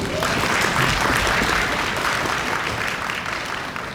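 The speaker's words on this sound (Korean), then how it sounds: "박수 한번 주세요." Steady, dense applause from a seated audience at an education seminar on admissions strategy, holding loud and even for the full stretch before tapering slightly.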